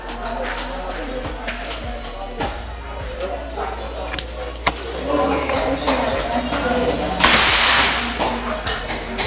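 An air rifle pellet shot cracks sharply once over steady background noise, followed by a short hissing burst, with some talking nearby.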